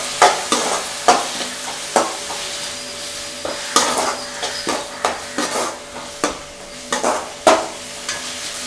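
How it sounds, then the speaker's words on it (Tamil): Chopped tomatoes and onions sautéing in a pan for rava kichadi, with a spoon scraping and tapping the pan in a quick, irregular rhythm over a soft sizzle, heard close up with no talking. "இப்போ நறுக்கி வச்சுருக்க தக்காளியையும் போட்டு வதக்கிக்கலாம்."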